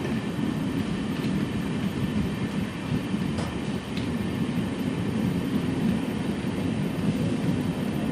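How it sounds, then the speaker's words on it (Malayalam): The Amrit Bharat Express rolls into Payyanur railway station with a loud, steady low rumble of wheels and carriages that persists throughout. "ട്രെയിൻ ഇതാ പയ്യന്നൂർ റെയിൽവേ സ്റ്റേഷനിലേക്ക് എത്തുകയാണ്"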